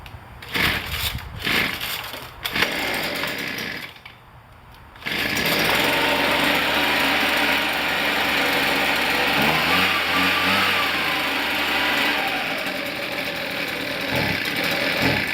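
A Husqvarna 125BV handheld leaf blower's small two-stroke engine starts, then idles steadily and loudly as it warms up, with a few throttle blips and uneven revs.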